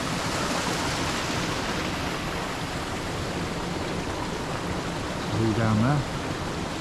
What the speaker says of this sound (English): walking over a little bridge here, and water running underneath